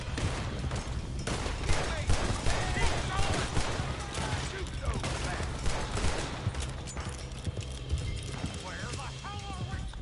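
Gunfire in Red Dead Redemption 2 rings out amid galloping horse hooves, with rapid shots and hoofbeats mixed together and voices talking over them.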